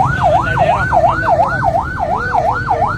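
An ambulance siren on a Karachi street cycles in a fast, regular rising-and-falling wail, loud and close, repeating about every half second over low traffic rumble.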